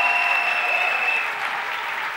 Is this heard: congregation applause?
yes